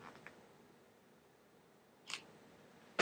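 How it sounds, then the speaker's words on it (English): A camera shutter opens in a dim room for a long exposure, producing a couple of small faint clicks followed by a sharper mechanical click, close and otherwise quiet. "open up the shutter"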